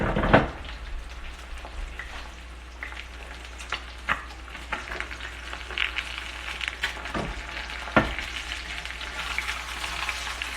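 Spam and salmon leftover fried rice sizzling in a pan with the heat switched off, a steady close crackling hiss broken by occasional sharp pops and stirring scrapes.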